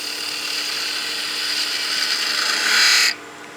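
A spindle gouge cutting a spinning wood workpiece on a lathe, a steady high whirring hiss with a hum underneath, swelling slightly before the cut stops abruptly near the end, close and alone.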